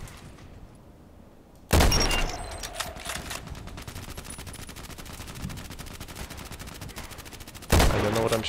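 Two loud, sharp sniper rifle shots in a video game ring out about six seconds apart, each followed by a dense rattling reverberation, with lighter mechanical clicks and game noise in between.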